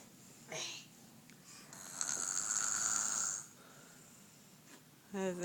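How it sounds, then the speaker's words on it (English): Snoring sounds in a quiet room, a few raspy, wheezy breaths rising and falling with pauses between them, while a voice speaks briefly. "That is actually not Dada snoring."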